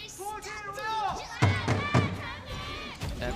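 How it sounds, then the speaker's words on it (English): A stadium crowd cheers and shouts during a KPL qualifier esports match, loud, swelling bursts of voices mixed with nearby chatter. "And the team are cheering them on here in the stadium tonight."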